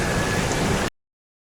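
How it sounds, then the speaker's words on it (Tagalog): Heavy rain in Baguio City pours as a dense, steady hiss, loud and close, then cuts off abruptly to silence partway through. "sobrang lakas ng ulan ngayon"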